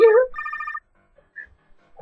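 A telephone rings in the Code Lyoko Quest for Infinity video game: a short burst of electronic trilling pulses right after a brief voice, then near silence.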